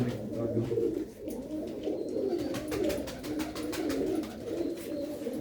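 Pigeons in a Punjabi fancier's loft coo in soft, rolling, repeated phrases close by, several birds overlapping continuously over a light background rustle.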